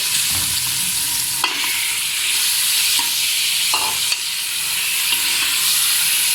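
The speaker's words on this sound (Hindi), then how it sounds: "इसके बाद हम इसमें चिकन डाल के 5 मिनट के लिए इसे फ्राई करेंगे।" Chicken pieces frying in a pan for a turnip chicken curry, a loud continuous sizzle and hiss with occasional stirring scrapes and clinks, close up and without talk.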